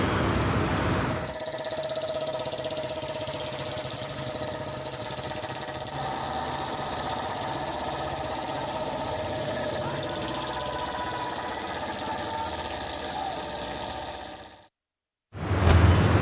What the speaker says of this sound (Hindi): 33 बुलेट मोटरसाइकिल पर ये टीम अपनी कलाबाजी दिखाएगी